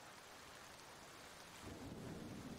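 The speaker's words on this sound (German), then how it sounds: "Dann hören wir uns lieber weiter den Regen an." Steady, dense rain falls throughout, and a low thunder rumble swells in the last second; the recording plays as background ambience during a tabletop role-playing game session.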